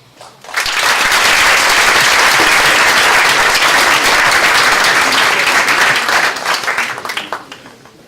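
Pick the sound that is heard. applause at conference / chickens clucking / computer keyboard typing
applause at conference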